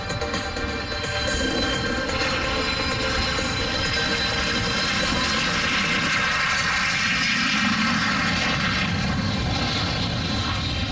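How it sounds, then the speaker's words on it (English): L-39 Albatross jets of the Lone Star Jet Team taxi out at the Hammond Northshore Regional Air Show, their engines producing a loud, steady roar with a high whine that holds throughout. "We're gonna get the L-39 Albatross jets taxied out of the Lone Star Jet Team."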